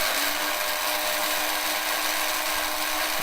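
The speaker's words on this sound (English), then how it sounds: "you can just press it down and just let it grind until it's finished" An electric coffee grinder whirs steadily while grinding coffee beans, a continuous loud, high buzzing hum with no breaks.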